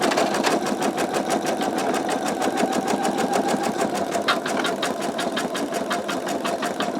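An embroidery machine stitches an in-the-hoop wallet project, giving a fast, even, steady rattle of needle strokes close up, continuous and alone.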